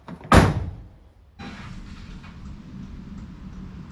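A VW T5 van door shuts with one solid, close thud, followed by a low steady hum of an idling engine.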